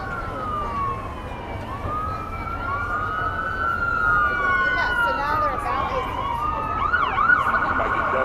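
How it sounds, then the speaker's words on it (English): An ambulance siren wails steadily, its pitch sweeping up and down as it passes close by on the Las Vegas Strip, over a constant hum of city traffic and faint voices. "Another ambulance going."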